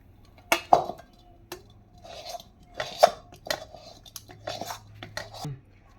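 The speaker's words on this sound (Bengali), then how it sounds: "এই যে আমি ঢেলে নিচ্ছি।" A hot sweet laddu mixture is poured and scraped out of a pan, with clattering metal utensil knocks and scrapes against the pan repeating at irregular intervals over low background hum, close up.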